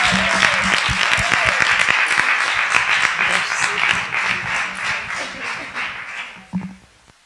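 Sustained applause from an audience at a talk on dissident identities and non-normative genders, steady clapping that fills the room for several seconds before tapering off abruptly near the end.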